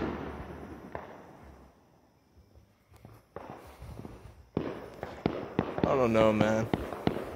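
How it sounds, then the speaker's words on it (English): Fireworks set off on the far side of a house give sharp pops and cracks, some sparse and distant, then a denser loud burst of crackling, while someone speaks briefly. "Someone else is shooting fireworks in that direction, but it's on the other side of the house."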